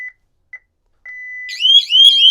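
A Lyric SiXSiren wireless siren gives a few short beeps, then breaks into a loud, warbling alarm tone that keeps sounding steadily to the end.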